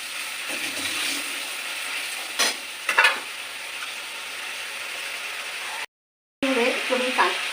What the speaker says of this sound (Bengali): টমেটো বাটাটা দিয়ে আমি আবার কষিয়ে নেবো ভালো করে